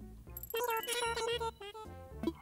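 Telephone ringing in the Animal Crossing shop, a rotary dial phone, black-phone style in orange, sounding as bright repeated tones over game music, close and moderately loud.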